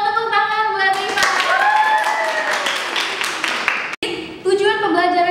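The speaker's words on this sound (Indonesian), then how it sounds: "tepuk tangan buat Rifa." A classroom group claps hands for a student during a microteaching lesson, a brief burst of clapping amid music and voices, fading before the speech resumes.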